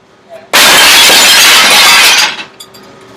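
Glass shatters in one loud, sudden crash, and a dense wash of breaking shards rings for about two seconds before fading into a few faint tinkles.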